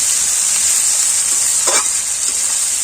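Onions fry in a pan with a steady, bright sizzle and a soft scrape of stirring partway through, close and loud, with no voices.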